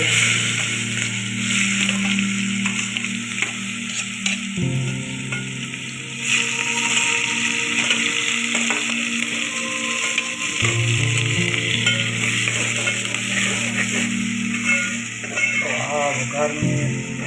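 Cumin seeds sizzle in hot oil for a potato-mash tempering, a steady loud frying hiss with occasional stirring clatter and a low hum throughout.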